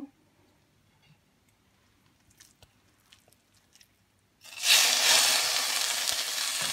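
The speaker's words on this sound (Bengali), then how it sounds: "এটা ফ্রাই প্যানে ঢেলে দিব" Chhana for date-palm jaggery sandesh hits a hot frying pan after a few quiet seconds of faint clinks, then sizzles loudly and continuously, close and bright, to the end.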